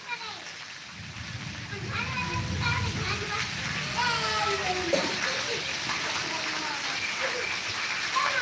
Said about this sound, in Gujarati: મોરબીમાં અત્યારે ધોધમાર વરસાદ ચાલુ છે પવન સાથે